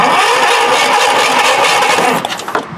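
A Tera jet engine with no spark cranks over and over without catching. The loud, continuous starter grind sounds close by, then cuts off and sputters out just before the end.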